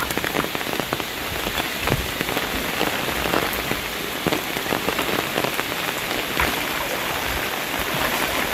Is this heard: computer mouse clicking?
no